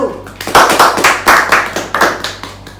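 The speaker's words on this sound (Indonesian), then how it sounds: "berikan aplaus untuk kelompok 1" A classroom group applauds a student team, dense rhythmic clapping from many hands, steady and close for the whole stretch, loud with no lull.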